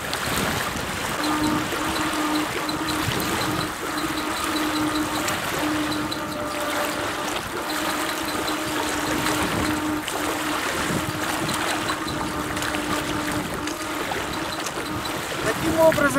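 A Real Craft 470 (Salyut 470) motor boat is steered by remote control away from the shore. Its outboard gives a steady droning hum over constant lapping water, holding at moderate loudness throughout.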